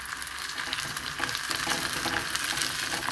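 Chopped shallots and red chillies sizzling and frying in oil in a pan, a steady, close crackling hiss that carries on throughout without speech.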